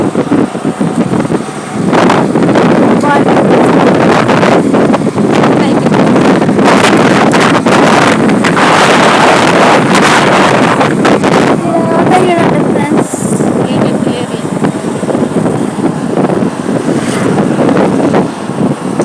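Water rushes continuously at Jurala dam, a loud, dense roar heavily buffeted by wind on the microphone throughout, with no clear voices.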